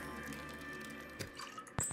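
Water dispensing from a machine in the video game Subnautica, soft dripping and trickling under a faint electronic hum, ending in a brighter splash-like burst.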